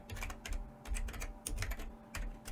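Quick clusters of keystrokes tap on a computer keyboard, close and fairly soft, with short pauses between bursts and no voices.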